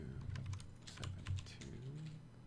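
Rapid keystrokes on a computer keyboard clatter in quick irregular bursts, close and fairly loud, over a low background hum, with no speech.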